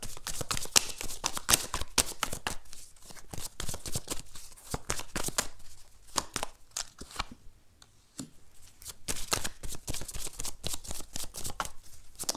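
Tarot or oracle cards are shuffled and drawn by hand during a reading, giving quiet, close riffling and snapping flutters in dense bursts with brief lulls, no voices.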